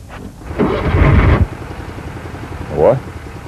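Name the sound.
engine revving of a concept-car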